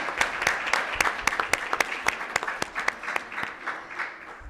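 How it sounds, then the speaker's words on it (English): An audience at an elementary school district board meeting claps for the students who prepared the content: a round of applause with distinct sharp claps over a softer crowd patter, fading toward the end. "Can we get one more round of applause for those students who put the content together?"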